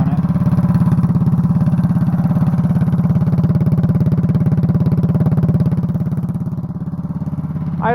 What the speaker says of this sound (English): Idles really well. Idles better than the new engine does.